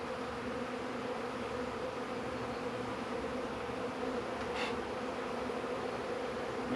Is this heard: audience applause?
no